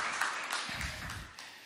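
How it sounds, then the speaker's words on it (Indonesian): A church congregation applauds during a sermon, a brief, fairly quiet patter of many hands clapping at a distance, fading out toward the end. "Dari tepuk tangannya sih aku tahu sih."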